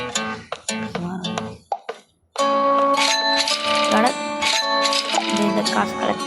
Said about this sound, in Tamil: இந்த காசு கலெக்ட் பண்ணி